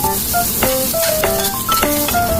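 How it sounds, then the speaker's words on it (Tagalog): Beaten egg sizzling in a pan for fried rice, a steady close hiss of frying with a few stirring scrapes and bright clinks over it. "isusunod ko naman po yung binating itlog"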